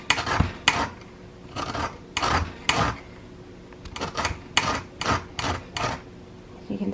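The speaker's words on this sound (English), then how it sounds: "So I have a organic lemon and I'm using a grater." Organic lemon being zested on a grater, about a dozen loud close rasping strokes in quick irregular bursts with short pauses between.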